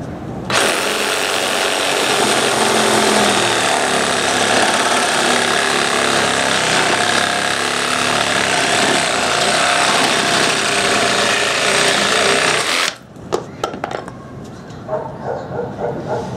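A DeWalt DCS380B reciprocating saw cuts through a screw and nail, a loud continuous rasping buzz for about twelve seconds that stops abruptly, followed by a few clanks and faint handling noises.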